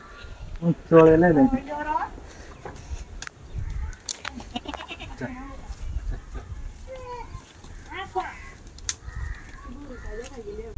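Goats bleating on a farm, several short wavering cries near and farther off, one loud close call early on, amid chatter of people talking and some bird chirps.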